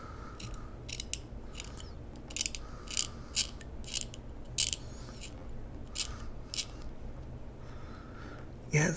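A tool scratches lightly at a plastic model kit part in a series of short, sharp rasping strokes, close and distinct, with a quiet pause between bursts.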